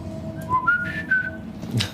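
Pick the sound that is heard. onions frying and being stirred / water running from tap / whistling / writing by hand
whistling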